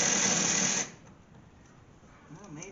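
An electric winch installed in a home workshop whirs loudly for under a second as it starts pulling a non-running car inside, then cuts off to a quiet room with faint shuffling.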